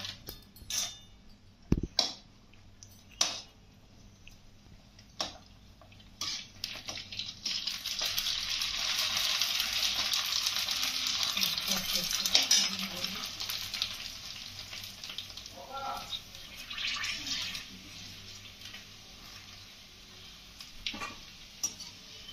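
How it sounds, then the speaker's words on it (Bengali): Phuchka puris fry in hot oil, a sizzle that swells and rolls for about ten seconds after several sharp clicks and taps, then eases, with a few more scattered ticks near the end. "এই যে ফুচকা নিয়ে এসেছি, এই ফুচকাগুলো ভাজবো"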